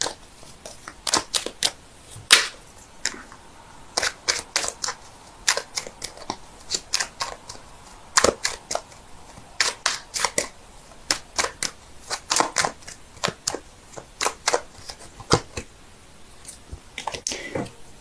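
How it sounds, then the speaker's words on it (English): A deck of tarot cards is shuffled close up in quick, rhythmic bursts of riffling and slapping that continue steadily, with no speech over them. "so give me a sec while I shuffle."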